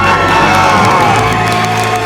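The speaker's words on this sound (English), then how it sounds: "Let's hear a debt-free scream." A couple shouts their debt-free scream after paying off $138,000, a loud, sustained joyful yell with cheering, right up close and filling the whole moment.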